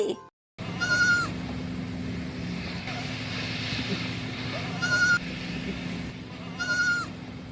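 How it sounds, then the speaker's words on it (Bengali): Goat kids bleating three times in short, high, wavering cries, spaced a few seconds apart over a steady low background hum. "ছয় ছাগল ছানা লাফিয়ে চলে।"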